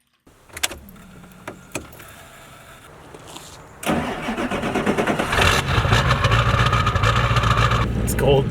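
Abandoned Ford OBS 7.3 Powerstroke diesel, parked for ten years, cranks over on a cold day: quiet clicks and brief bursts first, then a loud, sustained, rumbling starter-driven churn that runs steadily to the end.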